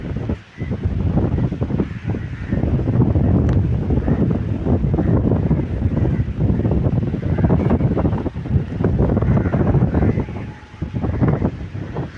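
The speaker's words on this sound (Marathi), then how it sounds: "पाणी अशा लाटा येतात बघा" Loud, continuous roar of sea waves washing in on Uttan beach, heavily buffeted by gusty wind hitting the microphone, with no voices.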